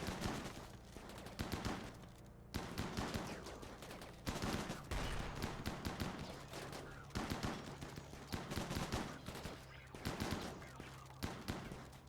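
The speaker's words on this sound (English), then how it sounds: "they're shooting at us" Gunfire in a Rimworld colony battle, quiet, rapid volleys of sharp shots in irregular clusters over a low musical hum, repeating for several seconds.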